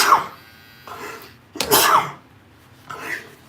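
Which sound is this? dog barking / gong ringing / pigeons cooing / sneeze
sneeze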